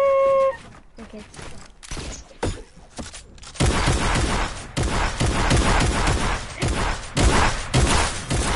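Shotgun blasts in a shooter video game match, a rapid run of loud booming shots layered with busy game noise, with players talking over the action.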